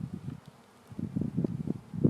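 Honey bees buzz around an opened hive in short, uneven bursts, close to the microphone with no voices.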